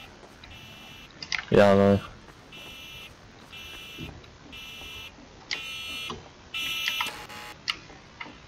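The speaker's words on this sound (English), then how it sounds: "The oven timer." A kitchen oven timer in the Garry's Mod horror map The Village 3 beeps in short, evenly spaced bursts of three or four, repeating at a moderate level over dim background noise, with brief talk and a louder thud near the start.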